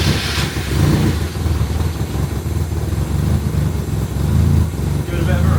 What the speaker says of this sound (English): Josh wanted to see what the exhaust would sound like with the back box on, so we connected it together using a microfiber towel, and then we tried to start it